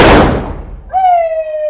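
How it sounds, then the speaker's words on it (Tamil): A Diwali firecracker blasts loudly up close, its broadband bang decaying over about a second, followed by a steady tonal whine or whistle that holds alone. "வெடிதான் வெடிச்சு, பேப்பர் வெடிக்கல."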